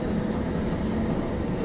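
A Class 08 shunter locomotive in Train Sim World 2 pulls away with a steady, loud rumble and rolling rail noise throughout, with no voices over it.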